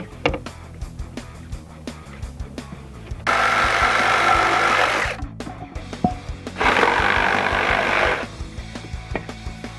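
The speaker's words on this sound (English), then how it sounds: "Cutting these ends with the Sawzall, I mean, the ends of these boards aren't going to be pretty" A Sawzall reciprocating saw cuts the ends of wooden boards for a loft in an earthbag dome build, two loud close bursts of buzzing cutting separated by a short pause, with lighter handling knocks around them.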